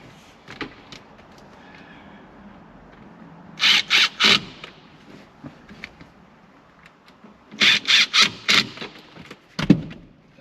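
Mechanical work on the shifter bushing of a Mitsubishi Pajero Mini, with bolts being tightened: two bursts of quick, close ratcheting clicks, separated by gaps of faint handling noise and small knocks.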